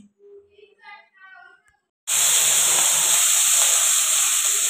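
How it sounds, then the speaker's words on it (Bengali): Shrimp drop into hot oil in a wok and burst into a loud, steady hissing sizzle that starts abruptly and holds. A voice speaks just before. "তো চিংড়ি মাছগুলো দিয়ে ভালো করে একটু ভাজা করে নিতে হবে"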